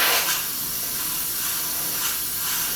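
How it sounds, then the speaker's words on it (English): An airbrush sprays pearlized white paint in a steady hiss that holds fairly even from start to finish, with slight swells, and no voices over it. "I've got the pearlized white in the airbrush"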